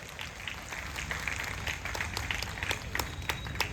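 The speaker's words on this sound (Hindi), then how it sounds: "आप सब अपने लिए इसके लिए ताली बजा सकते हैं।" Crowd applause at a Constitution Day gathering, faint, distant patter of clapping heard steadily throughout, soft and somewhat muffled.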